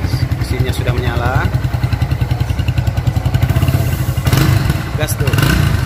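A Kawasaki W175 TR motorcycle engine runs close by with a loud, pulsing idle, then rises briefly as it is revved near the end.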